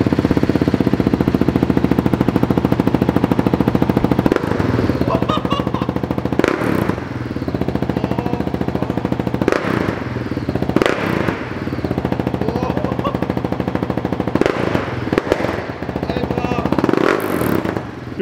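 A Husqvarna 701 Supermoto fitted with an FMF exhaust fires up and runs loud and close, a steady throbbing engine roar with sharp blips and bursts over about eighteen seconds.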